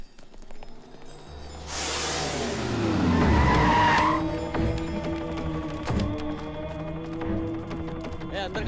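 A car speeds off with its tyres skidding and squealing loudly as the engine roars, then settles into a rumbling drive with a few thuds, amid a tense dramatic scene.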